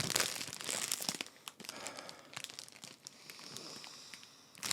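Bag of Spicy Queso Funyuns being torn open, sharp crinkling and crackling plastic in quick irregular bursts up close, with a brief tearing sound, no talking.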